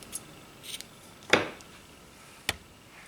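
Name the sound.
scissors cutting baby blue yarn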